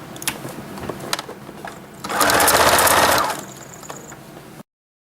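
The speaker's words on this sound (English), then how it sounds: "sew them together across the top" A sewing machine stitches the top seam joining a cowboy boot Christmas stocking to its lining, running in one loud, close, steady burst of about a second after some quieter handling clatter, then stopping.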